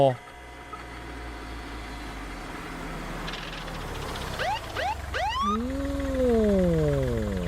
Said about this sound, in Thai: มีรถตำรวจมานะ